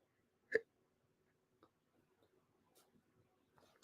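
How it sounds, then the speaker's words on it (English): A single sharp hiccup breaks a near-silent room, followed by a few faint small clicks and a brief soft noise at the end. "Got the hiccups."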